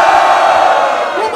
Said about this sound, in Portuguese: Uma salva de palmas pro Kant!